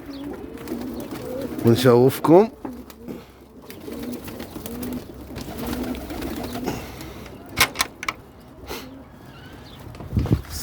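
Pigeons coo in soft, wavering bursts in a loft of young birds, with one clearer warbling call near the start and scattered wingbeats and rustles; someone speaks briefly.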